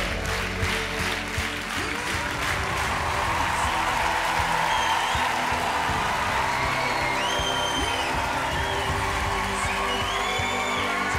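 Studio audience on France's Got Talent giving a sustained ovation, dense clapping at a steady level the whole way through with scattered cheers and whoops on top.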